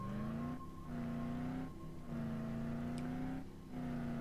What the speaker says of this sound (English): We're gonna need to take a car.